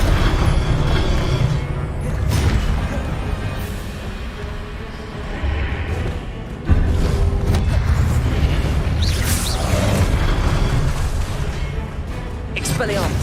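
Blasting-spell explosions and booming impacts from the game Hogwarts Legacy, loud and continuous with a sharp burst near the middle, mixed with combat effects and voices shouting spell names throughout.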